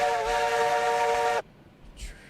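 A locomotive's steam whistle in RailRoads Online gives one long, loud, steady blast that cuts off sharply, followed by a faint hiss of escaping steam.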